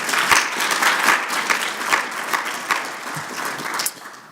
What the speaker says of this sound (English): Can we give them a round of applause as well, please?